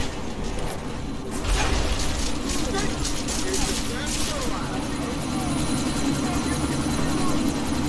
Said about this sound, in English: How do I stop the chopper?